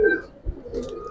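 Silver-pattern pigeons give a short run of soft, low cooing, fairly close, with a faint higher chirp near the end and no talking.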